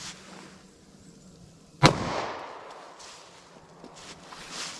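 A single sharp .40 S&W pistol shot fired into a ballistics gel block rings out once, loud and close, with a brief decaying tail over quiet outdoor background.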